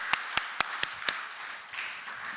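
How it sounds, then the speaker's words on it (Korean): A few sharp, separate claps from a gathered congregation during a daytime Korean Bible-study session, five distinct strikes at a quick, slightly uneven pace, fairly close, followed by quiet room tone. "우리 박수 한번 크게 칠까요?"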